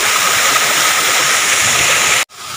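Water from a waterfall and river near Alegria, Surigao pours in a loud, steady broadband rush that holds constant, then cuts off abruptly before resuming slightly quieter.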